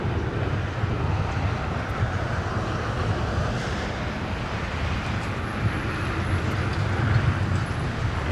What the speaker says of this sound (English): And it's United, beg your pardon. Getting airborne with a max 9.